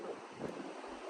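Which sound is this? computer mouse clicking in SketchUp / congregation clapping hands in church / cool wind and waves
cool wind and waves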